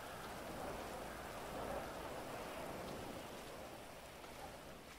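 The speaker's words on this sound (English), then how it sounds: "Good thing it's raining" Steady rain falling in GTA 5 Online, a dense even hiss with no pauses, fairly quiet and alone with no voices.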